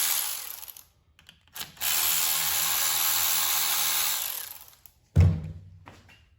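A ratchet wrench works loose the water pump bolts on a MK6 GTI engine: a sustained run of dense mechanical clicking, then a short sharp burst after a pause, close and with no talking.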